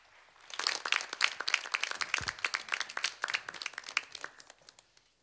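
A crowd applauds, dense clapping swelling quickly and holding steady before thinning out toward the end.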